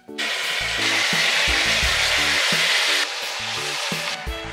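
Mutton pieces for rogan josh frying in a pan, a loud steady sizzle with repeated scraping and clattering as the meat is stirred and turned, easing slightly after a few seconds.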